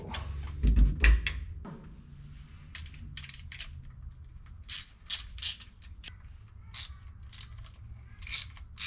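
Fire extinguisher mount being tightened onto a bare vehicle cage: a string of short metallic clicks and ratcheting bursts, fairly close, following a brief louder clunk at the start.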